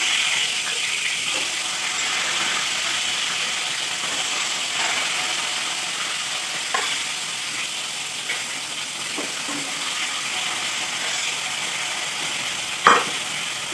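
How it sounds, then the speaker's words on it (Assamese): Fish frying in a pan gives a steady, close sizzling hiss throughout, broken by occasional faint clicks and one sharper tap near the end, with no talking. "এতিয়া এইখিনি মাছটো মই ভাজিব দিছোঁ।"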